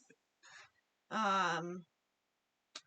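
A single loud, goose-like honking bird call lasts just under a second, with brief faint sounds before and after it.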